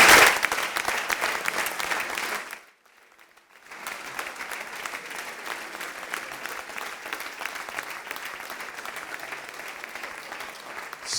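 An audience in a large hall applauds the people of León, the clapping running steady and fairly close, then dropping to near silence for about a second before swelling back into sustained applause.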